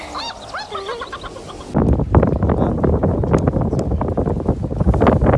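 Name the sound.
strong wind blowing over a lake while fishing from a boat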